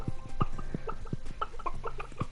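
Chickens in the farming game Stardew Valley cluck in short, repeated bursts, several overlapping calls spread evenly over a couple of seconds at moderate volume with no one talking.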